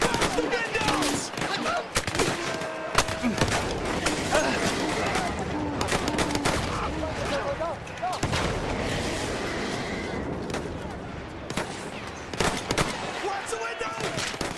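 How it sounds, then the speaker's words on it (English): Dense battle noise from the video game Battlefield 1, with rapid overlapping gunfire, machine-gun bursts and booming explosions running continuously and loud, with shouting voices mixed in. "the sounds of the explosions to the guns"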